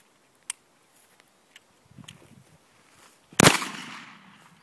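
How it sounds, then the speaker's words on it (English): A shotgun fires nine pellets of double-aught buckshot into an Xbox 360 console, one sharp loud blast followed by a short ringing decay, after a few faint scattered clicks and rustles. "now let's see what happens when we shoot it with 9 pellets of double-aught buck"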